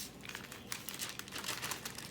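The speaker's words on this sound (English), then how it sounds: "you want to roll it with your wax paper" Wax paper crinkles and rustles steadily as potato candy is rolled in it by hand, close and soft, in a continuous papery crackle with no talking.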